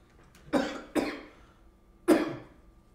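A man coughs three times up close, two quick coughs followed after a pause by a third, each a short, harsh burst.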